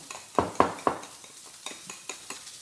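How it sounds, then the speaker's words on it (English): Whisk tapping and scraping through tempura batter in a bowl, a few sharp clinks up front followed by lighter, regular strokes, close and clear with no talking. "We're just going to whisk that up till it's nice and smooth."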